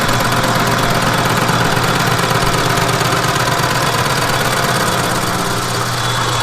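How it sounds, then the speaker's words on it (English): A lathe takes light cuts in a cast steel rear axle bearing retainer, giving a constant loud machine hum with a low droning undertone and no pauses. "I'm going to take light cuts just to make sure. It's cutting like it's cast steel, so it should cut real nice."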